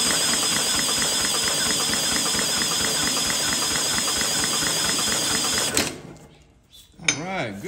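An old barn-stored Briggs & Stratton engine is spun over by an electric drill fitted to it, giving a steady rapid mechanical whir and clatter for about six seconds before it cuts off, followed by a brief rising whine.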